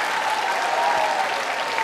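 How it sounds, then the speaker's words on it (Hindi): A crowd claps loudly and continuously at a college quiz show event, dense steady applause filling the moment without any voices. "तालियां बजाइए आप, जोरदार।"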